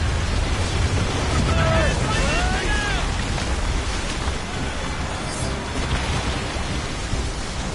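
Ship cannons and explosions in an Assassin's Creed Rogue naval battle make a dense, continuous roar of booms and rumbling, with whistling streaks overhead and voices mixed into the din.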